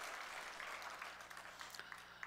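A church congregation at a Sunday worship service in Pohang applauds in praise, a faint, steady patter of many hands clapping for a couple of seconds.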